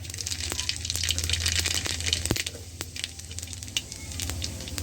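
Two cut dried red chillies and black cumin sizzle in hot oil, making a lively, crackling hiss. Sharp pops and spits recur irregularly throughout at close range.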